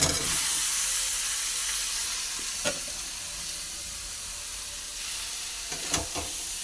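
Spices fry in a pan with boiled jackfruit, potato and chickpeas, producing a continuous close hiss of sizzling oil broken by a few brief scraping stir clicks.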